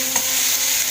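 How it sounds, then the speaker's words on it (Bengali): Cauliflower with a little turmeric being fried and stirred in a pan, a brief continuous sizzle with a soft scrape of stirring, close and even. "ভালো করে মিশিয়ে নেড়ে চেড়ে একটু লাল লাল করে ভেজে নিব"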